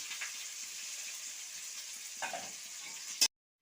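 Onion and whole garlic sizzle in hot oil with whole cumin, a steady close hiss and crackle that fades briefly with a stir, then stops abruptly.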